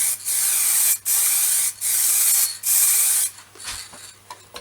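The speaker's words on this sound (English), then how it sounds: "a coating of chestnut acrylic sanding sealer, and then I'll put lacquer on top of that" Chestnut acrylic sanding sealer sprays onto an off-centre wooden bowl in three or four close, loud hissing bursts separated by brief pauses, then fades into quieter handling noises.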